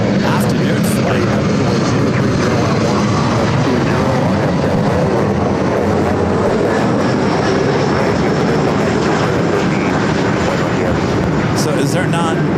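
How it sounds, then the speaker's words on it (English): A Philippine Airlines jet on its takeoff roll down runway 24 left at LAX, engines roaring loudly and steadily throughout, with someone talking over the noise. "Philippine Flight 113 heading back to Manila now, rolling down the 24 left."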